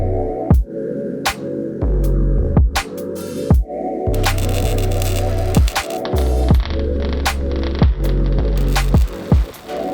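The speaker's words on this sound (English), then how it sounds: "This is where we CNC all of our parts for the two-stroke and four-stroke models." CNC machines cutting parts for two-stroke and four-stroke exhausts in the FMF Racing machine shop: a loud, steady mechanical hum broken by regular sharp clunks and clicks, with no talking.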